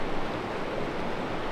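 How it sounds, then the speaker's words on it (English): A small, clear, cold mountain stream flowing in the Sierra, a steady, soft rushing babble heard close and alone. "What a picture perfect little stream."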